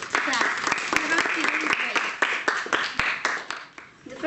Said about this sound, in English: Now, our last contestant, a great applause for him.